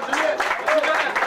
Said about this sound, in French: on peut l'applaudir d'ailleurs.